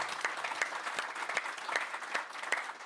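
Steady applause from a conference audience, a moderate crowd clapping at a brisk, even rhythm with individual claps standing out, heard from a little distance.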